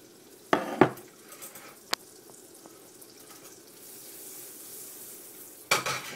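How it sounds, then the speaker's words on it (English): Butter melting in a hot pan gives a soft, steady sizzle that builds gently, broken by a few sharp clanks of utensils near the start and end. "Go ahead and throw a little bit of butter in the pan here. Make sure that it is nice and hot."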